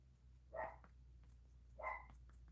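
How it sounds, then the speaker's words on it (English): A dog barks twice, about a second apart, with each short bark sounding faint and somewhat distant over a low steady hum, and no talking in between. "There goes Ren barking again."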